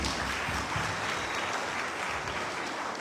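A crowd claps loudly and continuously for the Abu Dhabi achievers, a dense, even roar of applause with no pause across the whole stretch.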